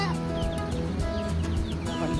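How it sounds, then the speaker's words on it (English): About ten chickens in a cage cluck and chatter close by in quick, overlapping bursts, with a busy, uneven rhythm of short calls. "All my little chickens are in here."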